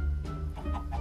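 A few short clucks from chickens in Minecraft, soft and close, over a steady low hum.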